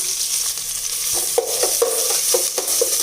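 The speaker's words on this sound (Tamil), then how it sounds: "வெங்காயம் ஒன்றும் பாதியமாக தட்டி வச்சதையும் எண்ணெயிலேயே சேர்த்துடலாம்" Crushed onion sizzles steadily in hot oil for bottle gourd and cowpea rice, with a handful of sharp clinks as a utensil stirs the pan at a regular pace.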